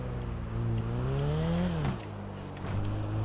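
Liberty Walk Lamborghini with a yellow paint job and titanium exhaust in GTA 5, its engine revving up in a rising pitch sweep, dropping sharply on a shift, then settling into a steady, loud drone.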